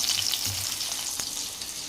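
Garlic cloves sizzling and crackling in hot oil while tempering for drumstick sambar, a steady bright fry with a few soft pops and stirring sounds, no talking.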